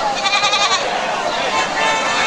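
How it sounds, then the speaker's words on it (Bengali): Native Bangladeshi goats at the Chatmohar rail bazaar goat market bleat close by, with a few quavering calls near the start, over a steady market din and voices in the background. "দেখেন সম্পূর্ণ দেশি জাতের ছাগল"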